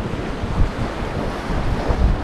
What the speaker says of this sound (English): As you can hear, the waves are getting quite big now